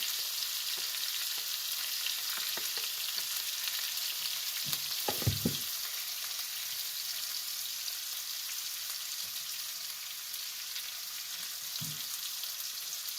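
Whole masoor lentils with salt and hing sauté in hot oil in a dhaba-style dish, giving a steady, close sizzle with a few brief stirring clinks and scrapes, with no talking.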